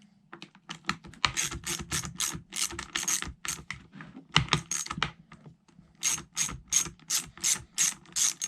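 A socket ratchet clicks in quick bursts while undoing the two nuts on the air filter cover of a Stihl MS 210 chainsaw, with close, sharp ratcheting strokes separated by short pauses and no talking.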